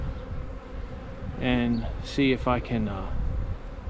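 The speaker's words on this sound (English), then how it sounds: "Definitely bees going in and out there of my swarm box." A honeybee swarm hums low and constant around a swarm box outdoors, with someone talking briefly over the buzzing partway through.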